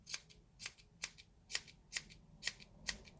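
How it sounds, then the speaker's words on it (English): Sharp scissors trim a crochet yarn fringe with seven crisp snips in a steady rhythm, each about half a second apart, close and fairly quiet. "Need a pair of sharp scissors for this."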